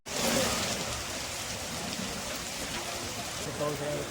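Steady rain falling in a village, a dense continuous hiss filling the whole stretch at moderate level, with faint voices and low murmurs underneath near the end.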